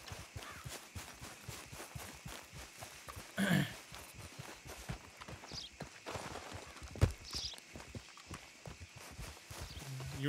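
Horse hooves clip-clop in Red Dead Redemption 2 as a steady, close walking rhythm. Someone talks quietly over it and a few other faint game sounds come in now and then.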